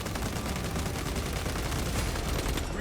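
Bolt carbine fire in Space Marine 2, a loud, continuous stream of rapid shots with dense impacts filling the whole stretch, no talk over it.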